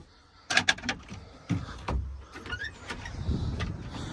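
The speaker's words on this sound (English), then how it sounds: "This door here just closes up and meets up with this other door." Cabin door on a 1989 Bayliner Capri boat sliding shut to meet a second door, with a few close knocks and clacks followed by softer rubbing and shuffling.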